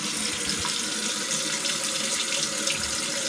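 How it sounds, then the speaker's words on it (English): Tap water runs steadily from a kitchen faucet into a glass, a continuous close rushing pour that holds for the whole stretch with no voices. "just filling it up directly with nothing special, with just tap water"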